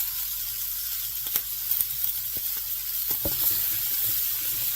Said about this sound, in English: Then I'm going to add